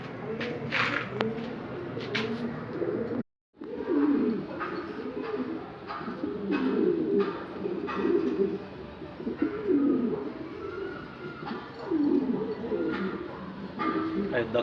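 Egyptian pigeons kept in a loft, paired males and females, give repeated low, rolling coos in overlapping bouts, close and clear throughout, with soft rustling and a brief dropout near the start.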